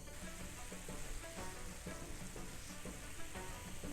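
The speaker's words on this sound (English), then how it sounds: "I'm going to braise my rice cakes in a sauce" Korean rice cakes braising in a seasoned sauce for gungjung-tteokbokki give off a quiet, steady bubbling sizzle with faint stirring clicks.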